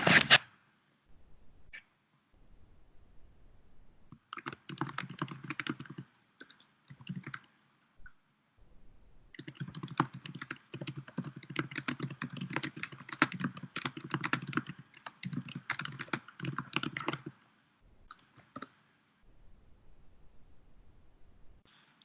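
Bursts of typing on a computer keyboard during an online Reiki session, with quick, close clicking keystrokes that come in long runs broken by pauses and no talking.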